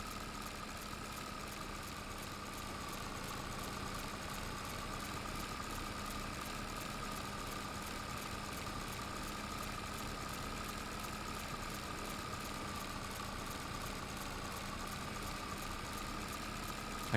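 Tractor with a mower running in the Farming Simulator 22 video game: a steady, continuous engine drone with a buzzing whine, like a hair trimmer, holding evenly and alone for the whole stretch.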